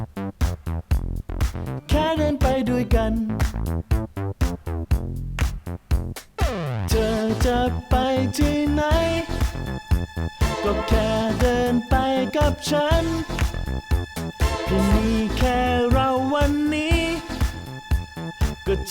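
A punchy bass line through a tube compressor plugin plays alone, steady and full, with notes sliding and repeating in a groove over about twenty seconds.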